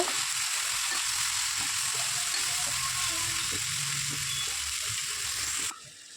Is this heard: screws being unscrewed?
no